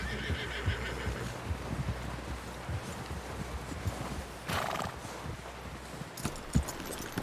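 Steady horse hoofbeats clop along beneath a brief neigh in the video game Red Dead Redemption 2, set against a continuous rumbling background with a few sharp knocks.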